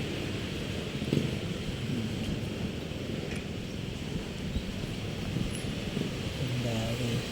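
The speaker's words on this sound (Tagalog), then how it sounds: "Sobrang hangin eh, no? Lakas na hangin eh, no?" Strong wind roars steadily across the microphone, a constant rumbling buffet, with faint voices talking underneath, outdoors during a DJI Mini 3 drone test flight.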